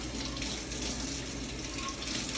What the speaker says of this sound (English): See how I'm rinsing this dish off thoroughly?